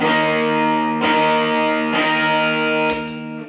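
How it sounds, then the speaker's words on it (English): Electric guitar on its bridge humbucker driven through a Tube Screamer into a Yamaha THR5 amp, three overdriven chords struck about a second apart, each ringing with a rich harmonic buzz before the last fades, close and alone. "I'm gonna try it on the bridge humbucker with the tube screamer"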